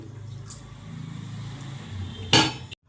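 A kadai pan set down on a stove with a metallic clank, followed by oil being poured in while making bread bajji at home; quiet kitchen bustle with a sharp burst of clatter near the end.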